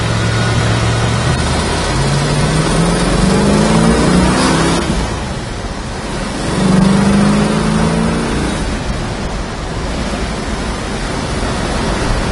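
A 1966 Chevrolet Chevelle engine running steadily with a broad roar and rushing air, pitch rising and falling twice as it revs, loud and continuous throughout.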